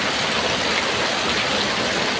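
Heavy rain pours down in a dense, steady hiss that fills the moment without pause or voices.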